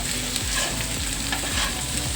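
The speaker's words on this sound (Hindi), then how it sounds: "तो मैं अच्छे से चला देता हूँ इनको" Spiced garlic potatoes with green chilli scraped and stirred in a hot pan, a steady sizzle with repeated rhythmic spatula strokes, close and continuous with no talking.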